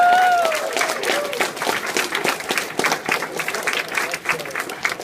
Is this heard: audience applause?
yes